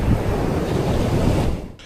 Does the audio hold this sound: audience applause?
no